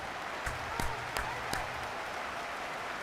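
Crowd applause in an American football video game as an injured player leaves the field, a steady clapping wash with a few sharper claps standing out over roughly three seconds.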